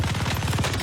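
Rapid burst of MG42 machine gun fire in a first-person shooter game, a dense unbroken rattle of shots about a dozen per second, loud and close with no pauses.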